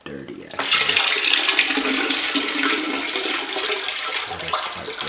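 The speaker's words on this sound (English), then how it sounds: "So I'm just going to empty this out into the toilet so you can see." Dirty water from a Hoover Max Extract 60 carpet cleaner tank pours into a toilet, a loud, steady gushing splash that starts abruptly after a brief pause and continues to the end, close by.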